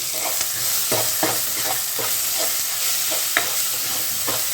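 Crushed ginger and garlic frying with spices in a pan for kurma curry: a steady oily sizzle with a spoon scraping through it in regular strokes about every second, close and alone without voices.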